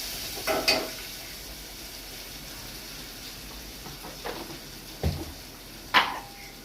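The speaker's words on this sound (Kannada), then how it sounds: "ಒಗ್ಗರಣೆ ಒಳಗೆ ಟಮಾಟೆ ಹಾಕಿದ್ಮೇಲೆ ಒಂದು ಉಪ್ಪು ಹಾಕಿದ್ವಿ ಅಂದ್ರೆ ಲಗೋಟ್ ಮೆತ್ತಗೆ ಆಗ್ಬಿಡ್ತಾವೆ" Tomatoes with salt frying in a tempering, a soft steady sizzle with a few sharp clinks of a spoon stirring against the pan, heard close with no talk.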